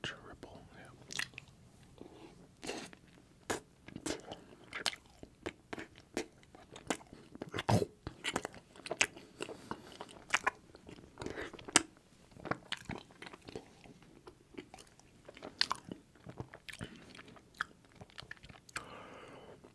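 Butterscotch ripple ice cream eaten close to the mic in a mukbang, with soft wet chewing and small bites repeating irregularly throughout, quiet and intimate with no talking.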